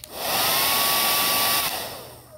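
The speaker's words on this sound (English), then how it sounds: "we're gonna use this hair dryer to see which one will be able" A hair dryer blows at a steady, loud whir throughout, used to push a cotton ball and a paper ball across a surface, then cuts off and fades near the end.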